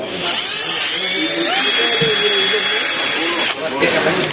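A cordless drill whirs steadily at close range with a high whine, pitch wavering slightly, then cuts off briefly near the end.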